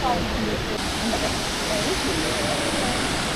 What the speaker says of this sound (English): which is where this waterfall flows into